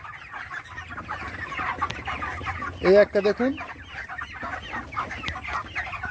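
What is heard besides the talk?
poultry farm chickens clucking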